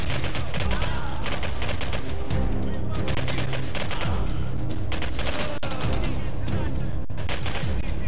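Dense, continuous gunfire in the shooter game Singularity, rapid automatic bursts and heavy shots overlapping loudly throughout, with someone talking over the shooting.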